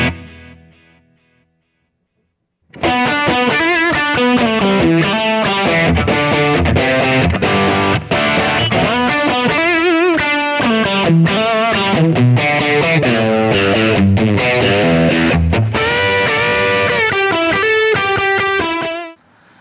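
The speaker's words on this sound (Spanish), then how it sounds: "este pedal tiene tres funciones. Puede sonar como overdrive, como distorsión y como fuzz." An electric guitar plays through a multi-mode pedal with overdrive, distortion and fuzz settings. After a brief quiet start it becomes a loud, continuous, heavily distorted run of riffs and chords with short breaks between phrases and no speech.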